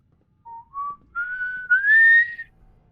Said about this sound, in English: I whistle higher when I'm blowing out, and whistle better lower